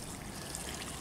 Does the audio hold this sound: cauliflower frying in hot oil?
no